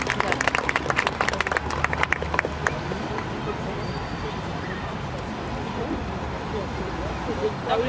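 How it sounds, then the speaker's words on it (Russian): An audience claps at a young poets' evening in a regional writers' house, dense applause close at first that thins out after a few seconds into a murmuring room. "Аплодируйте."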